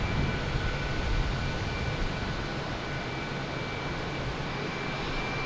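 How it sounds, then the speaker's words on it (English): JetBlue Airbus A320 arriving at Boston Logan from Orlando, a steady broad jet roar with a faint high whine, constant and fairly loud throughout with no voices. "Next arrives a JetBlue coming in from Orlando."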